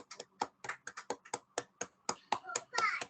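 A small group claps in praise after a Catholic home prayer gathering, a sparse, uneven run of distinct close hand claps that builds into a brief flurry at the end.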